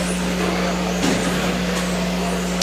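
Mod-class RC touring cars race through a chicane at an IROCC NRC speed weekend main, a continuous broadband whir over a steady hum, with a brief louder surge about a third of the way through.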